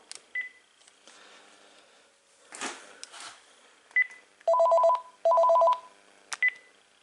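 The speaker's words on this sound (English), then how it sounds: "Just trying to test out the intercom feature of the KX-TG5243 second and third handsets" Panasonic KX-TG5243 cordless phone handsets run an intercom test. Scattered beeps and handling clicks come first, then two loud bursts of a warbling electronic ring and a final short tone, all close and indoors with no speech.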